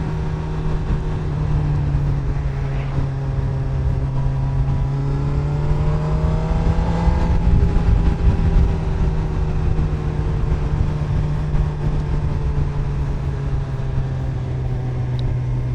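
A Honda CB1000R Black Edition naked sport bike with quick shifter and auto blipper hums steadily at cruising speed on a road with traffic, its engine note shifting smoothly under constant wind rush.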